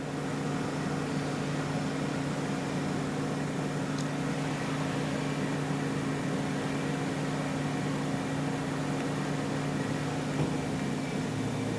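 An Okamoto CNC universal cylindrical grinder's spindle turns at about 350 RPM, giving a steady, quiet mechanical hum with a constant low drone and faint broadband whir that holds unchanged throughout, with no talking.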